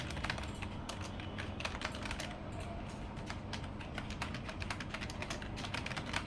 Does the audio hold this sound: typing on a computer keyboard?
yes